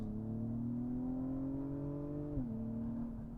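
An Acura TLX Type-S sports sedan engine climbs in a smooth, rising drone under full throttle, then dips briefly at a shift before steadying, heard from inside the cabin with no talk.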